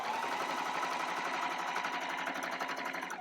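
A sewing machine runs steadily, top stitching a fabric wet bag, its rapid needle rhythm close and continuous before slowing at the very end.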